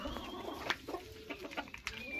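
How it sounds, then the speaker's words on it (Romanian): Bantam roosters and chickens cluck and call in a farmyard, several short overlapping bird calls scattered over a quiet, moderately distant background. "Cocoșii ăștia pitici."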